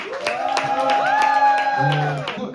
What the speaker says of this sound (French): un max de bruit, tonnerre d'applaudissements pour Alissa